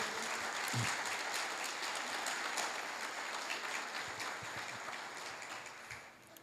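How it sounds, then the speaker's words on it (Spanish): Applause from a church congregation during a sermon, a steady wash of many hands clapping at moderate distance that holds for several seconds and fades slightly toward the end. "Le damos un aplauso hasta aquí."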